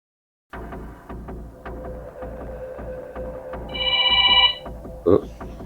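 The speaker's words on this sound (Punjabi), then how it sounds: "ਪੂਜਾ ਦਾ ਫੋਨ ਆ" A phone rings once with a bright electronic trill over a low steady hum and faint clatter, followed by a short sharp knock.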